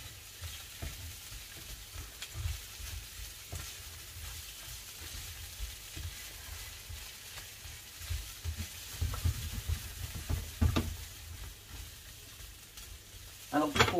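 Courgettes sauté in a pan with a soft, continuous sizzle, broken by occasional scrapes and clinks of stirring that grow a little busier toward the end.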